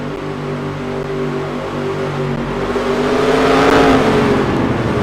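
A steady engine drone from GT cars running behind a pace car in a racing game at Bahrain, loud and continuous, swelling slightly as it nears, with no talk.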